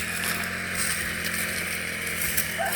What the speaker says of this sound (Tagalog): Ayan po siya nagka-grass cutter sa may sagingan.